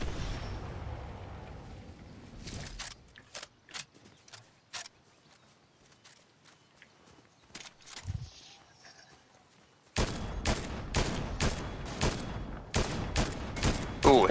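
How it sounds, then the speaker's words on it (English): Video game gunfire with scattered single shots and short bursts at varying distances, then a stretch of dense, rapid firing near the end, with faint talk in places. "we're getting shot at"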